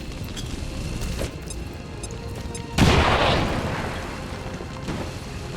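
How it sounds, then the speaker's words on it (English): A grenade blast in the turn-based strategy game XCOM 2 Long War 2: a sudden loud boom with a rumbling tail that fades over a couple of seconds, rising above a steady game background. "We can get a grenade on these 2"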